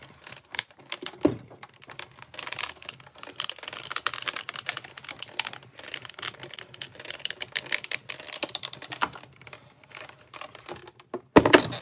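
A die embossing machine cranks card stock, a die and an embossing plate through its rollers, giving a long run of close, steady clicking and crunching with a few sharper knocks near the end.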